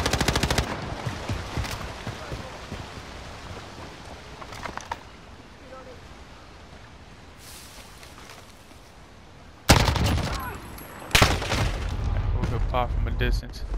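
A gun fires in a video game: rapid bursts of sharp shots at the start, quieter scattered shots through the middle, then two loud, close volleys near the end.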